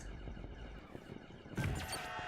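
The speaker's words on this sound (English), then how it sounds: "Buzzers have kindly reminded us that our engines are running dangerously hot" Engine-overheating alarm buzzers sound in the Space Food Truck video game, a faint, harsh electronic tone running under game noise with a brighter burst near the end.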